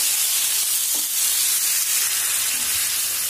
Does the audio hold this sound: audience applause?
no